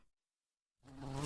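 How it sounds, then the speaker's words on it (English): Buzzing of a giant cartoon bee, a brief loud insect drone that rises in after a short silence and continues steadily to the end, heard alone. "Oh no, a giant bee!"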